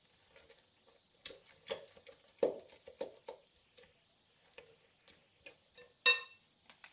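Energy cake batter with dried fruit is stirred in a bowl, giving soft, uneven wet patting and scraping strokes, quiet and close, with one sharper clink of the utensil against the bowl near the end.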